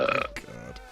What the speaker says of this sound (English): Was that a burp?